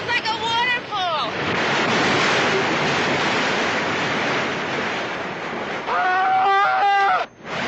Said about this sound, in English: Henry, it sounds like a waterfall!